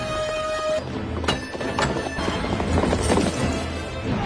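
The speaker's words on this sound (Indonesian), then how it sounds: "mereka menaiki kuda sembari memegang obor api" A film's cavalry troop of horses carrying torches, heard as a steady rumble of hooves with clip-clop beats and several loud whinnies and neighs over a full, noisy mix.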